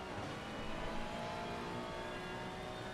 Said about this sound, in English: And engine braking to get the car stopped.